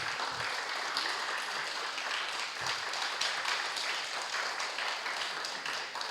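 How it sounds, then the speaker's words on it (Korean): A church congregation at a Sunday gathering applauds for a member's seventieth birthday, a faint, steady patter of many hands clapping at a distance, with no voices over it. "박수 부탁드리겠습니다."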